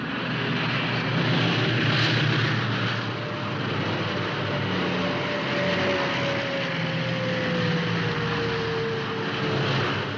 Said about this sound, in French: Ils affectionnent le décollage par formation entière, comme ici, la célèbre escadrille Cucaracha.